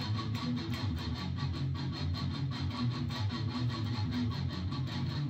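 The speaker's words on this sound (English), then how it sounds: "I'll palm mute this so you can really hear" Palm-muted distorted electric guitar chugging a fast, steady train-like rhythm, tight repeated muted notes played loud and continuous without talk.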